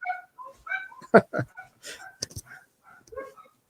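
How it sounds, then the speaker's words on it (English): Several excited puppies bark and whimper at home as someone arrives, the yips coming in short bursts mixed in with people talking nearby. "The dog's going crazy."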